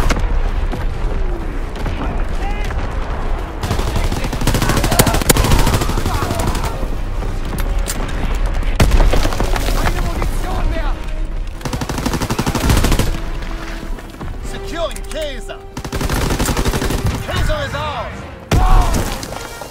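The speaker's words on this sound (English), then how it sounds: "Incoming enemy artillery!" Heavy gunfire and artillery from a Call of Duty: WWII Domination match in the Ardennes Forest, with dense bursts of rifle and machine-gun fire, booming impacts and shouted voices over a continuous battle din.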